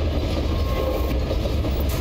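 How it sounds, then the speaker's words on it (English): A steady low rumble and rolling drone of a train ride in the video game Reveil, a continuous mechanical hum with faint rattling and no voices. "Oh, we're on a train."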